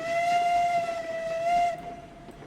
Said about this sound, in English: Go ahead and blow the whistle there.